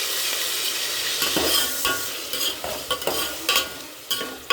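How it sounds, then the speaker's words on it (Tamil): Tomato and ginger garlic paste are sautéed in a pan for brinjal biryani. A steady close sizzle runs throughout, with repeated sharp scrapes and taps of the spatula against the pan. "நல்லா வதக்கிடலாம்"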